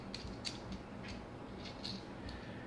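A metal leg of a kitchen stove cover slides into place and is turned, giving a few soft, close creaks and ratcheting clicks spaced irregularly over a quiet room.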